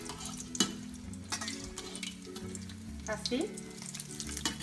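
Stuffed zucchini turned over in shallow frying oil, giving a soft continuous sizzle with a few sharp clatters and bumps from handling, while a voice speaks briefly.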